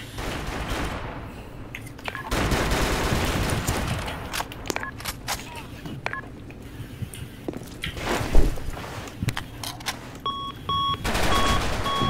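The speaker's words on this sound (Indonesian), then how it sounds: "Semua memang menembak." Shooter game match with scattered gunshot bursts and transient pops amid game noise, some beeps near the end; moderately loud, no clear speech over it.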